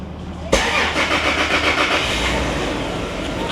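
A Toyota Land Cruiser with a 1FZ-FE engine cranks and fires, then settles into a loud, steady idle close by, with a brief voice just before it starts.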